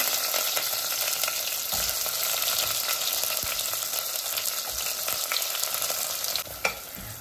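Onions sizzle and crackle steadily in a pan with oil and whole spices such as fennel, cinnamon, cloves and cardamom, cooking for mushroom biryani. The hiss runs continuously, close and fairly loud, with a brief scrape of stirring near the end.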